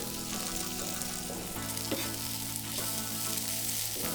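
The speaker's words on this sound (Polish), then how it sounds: "Wszystkie składniki ładnie się podsmażyły, tak jak chciałem." Rosemary, garlic and small bread cubes fry in a pan, a continuous close sizzle with a soft steady hiss and faint stirring touches, no voices.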